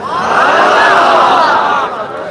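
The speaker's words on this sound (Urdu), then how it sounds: "یہاں پر جو ٹھاٹے مارتا ہوا انسانی ہجوم ہے، یہ در حقیقت عاشقان مصطفیٰ کا ہجوم ہے۔" A large crowd of devotees cheers at a night-time religious gathering for Shab-e-Barat, a loud and sustained roar of massed voices that swells and holds for about two seconds before easing slightly.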